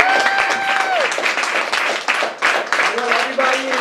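Studio audience clapping for a singer at a radio station session, moderately loud with a voice talking over part of it.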